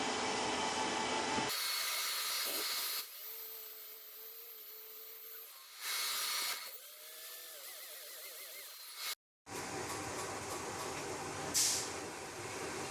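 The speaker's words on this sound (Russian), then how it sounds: "заряжаю в дрель сверло и сверлю на требуемую глубину" An electric drill bores a hole in the cylinder head of an Infiniti FX35 during repair, with bursts of harsh grinding and whirring, broken by quiet gaps and tonal motor whines.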